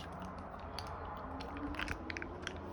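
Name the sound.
senior dog chewing paper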